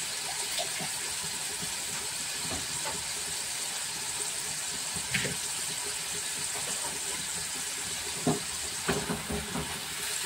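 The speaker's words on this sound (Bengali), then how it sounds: "ভালো করে একটু নেড়ে নেব।" Food stirred in a frying pan while cooking chicken rezala, a continuous hissing sizzle with occasional scraping knocks of the utensil, close and steady, without speech.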